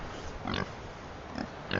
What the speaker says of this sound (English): Yeah, a lot of people think of them as the micro pig, but they still get around 200 kilos.